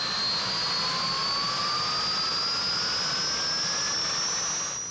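A news helicopter carrying rescued victims lifts off and turns toward Salinas Airport. Its turbine roars loud and continuous, with a high whine that rises slowly in pitch and no voices.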